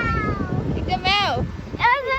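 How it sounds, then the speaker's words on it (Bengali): Two rising-and-falling meows come from a cat in a cat park, the first short and the second longer. A breezy outdoor murmur runs beneath them. "আচ্ছা এখানে তো রিয়েল বিড়াল আছে, তো রিয়েল ক্যাট আছে।"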